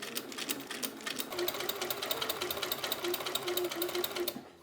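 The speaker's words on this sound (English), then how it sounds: "and then I just top stitch it" A sewing machine top stitches a simple double hem on an Edwardian Gibson Girl blouse, running in a steady rapid mechanical patter close up for several seconds before stopping.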